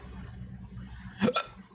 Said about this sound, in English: I'm getting the hiccups.